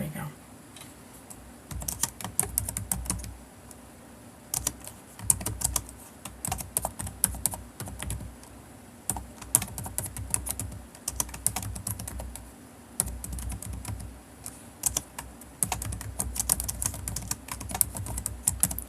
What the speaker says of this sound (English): I'm just going to keep typing